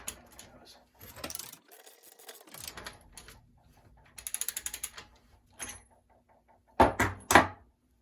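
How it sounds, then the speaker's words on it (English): Tools work loose a corroded, reverse-threaded drive-side bottom bracket shell on a bicycle with cup and cone bearings, close metallic ratcheting clicks and scraping, then a few sharp clanks at the end. "Now I'm going to remove the drive side bottom bracket shell"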